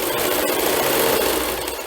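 A sewing machine stitching the fabric body of a small souvenir doll, running steadily and loudly up close as one continuous mechanical whir with no talking.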